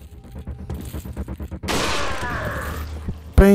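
Rifle fire in Resident Evil 4 comes as a burst of sharp, loud cracks with a rumbling, crashing tail, preceded by a rapid run of clicking mechanical taps and ending in a sudden loud bang.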